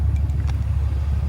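A small pickup truck's engine gives a steady low rumble and drone, heard close and without voices.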